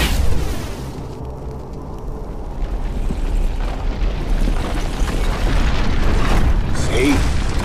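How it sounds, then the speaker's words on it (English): An object is set alight in the video game Hunted: The Demon's Forge, producing a loud, sustained roaring burst of flame with deep rumbling booms that swell toward the end. "Try setting that on fire."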